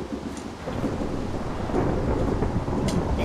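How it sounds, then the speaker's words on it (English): A Minecraft thunderstorm rolls along with a deep, continuous rumble of thunder over steady rain, swelling slightly louder toward the end. "It's thundering."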